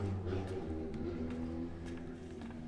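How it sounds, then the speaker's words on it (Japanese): Motorbike engine revving loudly and steadily in Resident Evil 7, a continuous close rumble with a droning harmonic tone that holds for the whole stretch, no speech over it. "バイクがうるさい。"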